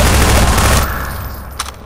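Loud, sustained turret gunfire in Half-Life 2, a dense rapid fusillade of shots that eases slightly partway through, with a sharper burst near the end.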